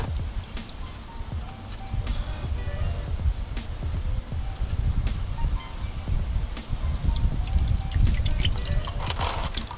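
Engine oil drains from an open drain plug into an oil pan during an oil change, a steady close trickle with dripping and splashing throughout.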